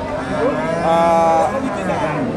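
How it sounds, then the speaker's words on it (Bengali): A Sahiwal bull, a young two-toothed animal, lows at a Bangladeshi cattle market with one drawn-out moo sounding close and loud over a steady crowd murmur. "দেখি ভাই একটু শাহিওয়াল জাতের ষাঁড়, সুন্দর একটা ষাঁড়, 2 দাঁতের ষাঁড়"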